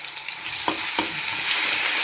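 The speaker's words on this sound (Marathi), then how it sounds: "आता आपण हिरवी मिरची टाकली." Green chillies fry in about two spoons of hot oil, giving a loud, close crackling sizzle with a couple of sharp pops and stirring scrapes partway through.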